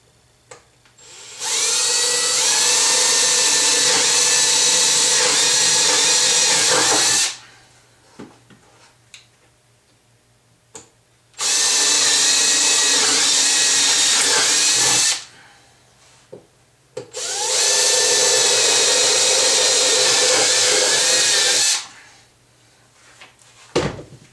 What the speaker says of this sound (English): So what we're going to do is drill in a couple of places.